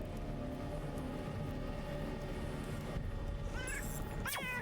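Kittens meow a couple of times near the end, high and rising, over a constant low background rumble from engines or traffic.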